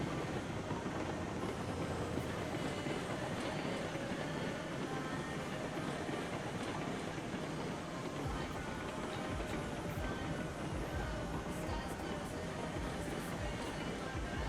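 A steam locomotive in Railroads Online runs steadily, a dense, constant rumble and rolling rail noise that holds at an even level throughout, with faint talk mixed underneath.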